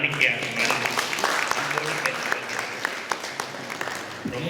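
Applause from the audience at a Kumbabishekam consecration ceremony of a Kamakshi Ambal temple in Germany, steady crowd clapping throughout with a voice speaking over it.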